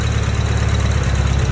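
A fully built Honda H22 engine in a CB7 car idles steadily and loudly up close, a low, even, rumbling drone with no talk over it.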